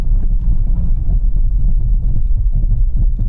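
A car braking hard from speed during a stopping-distance test on an open road, a loud continuous low rumble of tyres and chassis filling the whole stretch without any talk.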